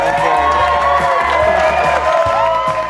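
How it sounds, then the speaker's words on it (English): Wedding guests cheer for the bride and groom in a loud, sustained burst of crowd noise that is partly masked by pounding music with a heavy bass beat. "can everybody stand up and give a massive cheer for Bernie and Emma?"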